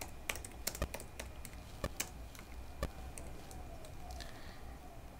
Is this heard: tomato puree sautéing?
no